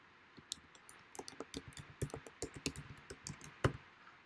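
Quick, irregular clicks from a computer keyboard being typed on, close and fairly quiet, in bursts of short taps with no talking.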